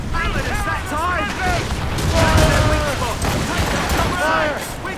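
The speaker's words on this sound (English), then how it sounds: "They are firing a volley!" Naval cannon volleys in Assassin's Creed Rogue: continuous loud booming gunfire and rumbling blasts rolling over each other, with shouting voices layered throughout.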